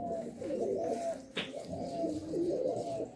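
Pigeons of Kolkata Andhra and Madrasi breeds at a sale coo in steady rolling phrases close by, with a brief sharp rustle or flap in the middle and no talk.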